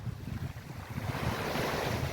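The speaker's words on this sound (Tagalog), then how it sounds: "huni ng alon ng tubig" Steady rush of sea surf washing in at a winter beach in Porto Rafti, continuous and fairly near, with wind buffeting the microphone throughout.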